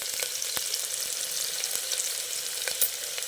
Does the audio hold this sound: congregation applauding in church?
no